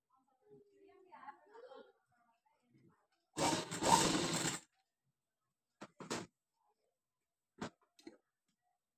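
A sewing machine runs in one short, steady burst of stitching as piping is sewn onto a blouse, followed by a few brief, sharp mechanical clicks. Faint background sounds fill the gaps, and there is no clear speech.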